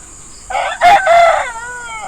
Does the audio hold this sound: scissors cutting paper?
no